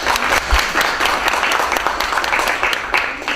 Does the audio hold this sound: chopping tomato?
no